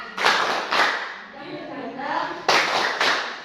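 A group claps in a short rhythmic chant, two sharp claps, a pause with voices talking, then two more claps, close and fairly loud.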